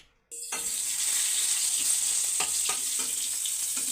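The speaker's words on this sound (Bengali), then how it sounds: "এই যে মাছ ধুয়ে ছুঁয়ে নিয়ে যে মাছ ভাজা শুরু করে দিয়েছি" Fish sizzling in hot oil in a frying pan, a steady close hiss that starts abruptly after a short silence, with a few faint clinks of a spatula.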